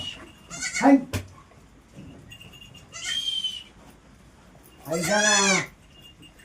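Goats bleat on a farm in three separate calls, the last one loud and drawn out, with quieter farmyard noise between them and some voices in the background.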